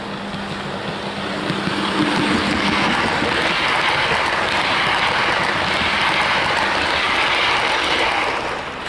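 A Hornby Class 87 model locomotive in InterCity Swallow livery, number 87010 'King Arthur', hauls Mark III coaches and a DVT around a layout, giving a steady, close rolling rumble and hiss that runs without a break.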